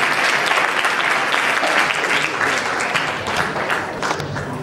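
A seminar audience applauds to welcome a speaker, a loud, full burst of many clapping hands that stays strong before easing slightly toward the end.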